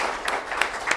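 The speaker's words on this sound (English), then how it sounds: "Big round of applause for all of them." Brief, thin clapping from a conference audience at a circular-resources event for cities, a few distinct claps over a low background in about a second.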